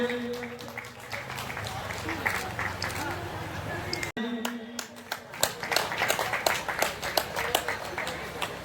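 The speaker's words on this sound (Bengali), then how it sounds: "হাততালি, আপনারা একটু হাততালি দিয়ে" Audience clapping at a village health and eye camp, a steady patter of many hands across the whole stretch with brief louder bursts, mixed with crowd murmur and some talking nearby.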